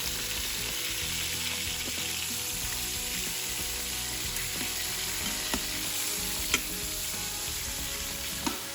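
Beef browning in an Instant Pot for barbacoa, a soft continuous sizzle with a faint background hum and occasional light clicks and taps.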